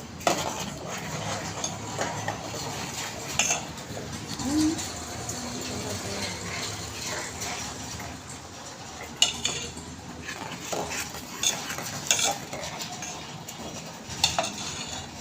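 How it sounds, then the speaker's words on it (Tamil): Spoon stirring cotton seed milk sweetened with jaggery in a pot, a steady soft scraping and swishing with occasional clinks against the metal, close by and moderately loud, no talking. "நான் இப்போ நல்லா வெல்லம் போட்டு நல்லா கிண்டுறோம்."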